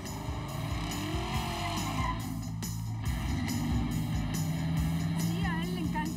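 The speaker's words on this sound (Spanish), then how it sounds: "El auto suena como el gran demonio." A restored classic car drives on the road with a loud, rumbling engine and the tone shifting as it accelerates, while people talk over the engine noise.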